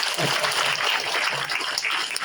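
Steady audience applause at a city mayor's town hall meeting fills the space, a dense continuous patter of many hands clapping at moderate loudness with no voices over it.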